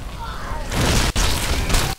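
An exploder zombie blowing up in the video game Dead Island, a loud sustained booming blast close by with brief dropouts, no talk.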